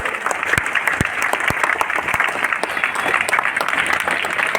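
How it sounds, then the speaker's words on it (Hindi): An audience at a school student council election announcement bursts into loud, energetic applause for the teachers, a crisp, continuous patter of many hands clapping close by with sharp individual claps standing out. "तो एक बार जोरदार ताली बजाएंगे हमारे टीचर्स के लिए"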